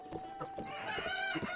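Chickens clucking and a rooster crowing in the video game Zelda: Breath of the Wild, several close, overlapping calls in quick succession.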